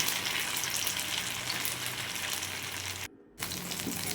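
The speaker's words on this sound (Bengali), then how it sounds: "বেশ কয়েকটা বড়া তেলের ভিতরে দিয়ে দিয়েছি" Sabudana bora fritters deep-frying in hot oil, a loud continuous bubbling sizzle that drops out for a moment and then resumes, no talk.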